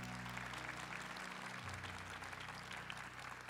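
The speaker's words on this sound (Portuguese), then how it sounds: "Vamos aplaudir os filhos de Deus amado." Applause in a church gathering for the children of God, a steady wash of clapping held at an even level throughout, with a low sustained organ or keyboard chord running underneath.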